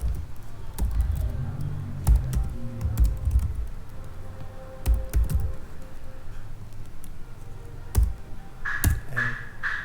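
Terminal commands typed on a computer keyboard, a close run of irregular key clicks with heavier thumps and a few sharper taps near the end, no speech.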